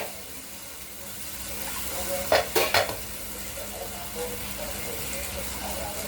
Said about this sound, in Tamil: தக்காளியை இதில் கலக்கிறேன்